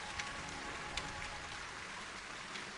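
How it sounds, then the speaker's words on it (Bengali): Steady outdoor rain hisses softly and evenly at night, with a few sharper drop taps standing out, faint and without voices. "আর বাইরে বৃষ্টিটাও থামছে না"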